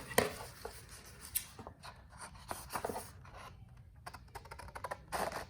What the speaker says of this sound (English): this piece right here is extra, so we're going to cut that off